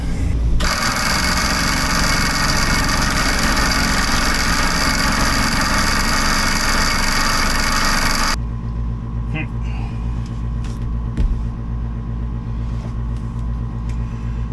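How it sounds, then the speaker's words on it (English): A boat's main bilge pump runs with a loud, steady droning hum for about eight seconds, then cuts to a quieter mechanical rumble. "So now I'm going to cycle the main bilge pump and see what it looks like now that I can actually see the thing."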